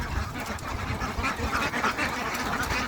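A flock of newly bought ducks quacks steadily near water, with overlapping calls close by, fairly loud and without a break.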